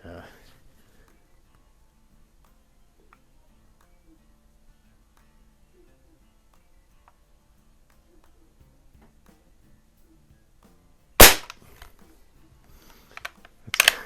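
A single sharp air rifle shot, a Sheridan C9A or Benjamin 397PA pump gun, cracks loudly near the end after a long quiet stretch, followed by a few faint clicks and handling noises.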